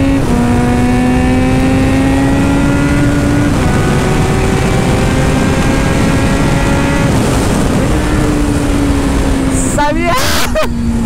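Kawasaki Z900 motorcycle engine revving hard and climbing in pitch, with a gear shift partway through before it pulls up again, loud and close throughout, with wind noise and someone talking over it.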